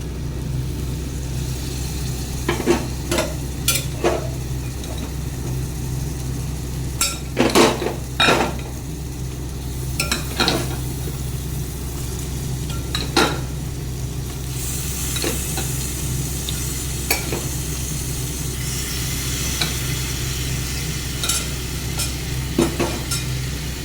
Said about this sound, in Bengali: এখন এর মধ্যে চিকেনটা, ম্যারিনেট করা চিকেনটা দিয়ে আবারও 10-15 মিনিট কষাতে হবে।